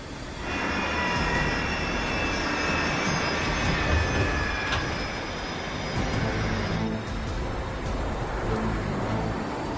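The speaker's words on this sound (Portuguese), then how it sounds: "o avião está diminuindo velocidade" A loud, steady airplane engine roar with a whining high pitch that gradually eases as the plane slows for landing, continuous and close, with no voices.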